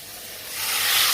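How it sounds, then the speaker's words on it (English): A few drops of water land in a hot pan of mushrooms and set off a brief hiss of steam that swells in loudness over about a second. "Just a few drops of water"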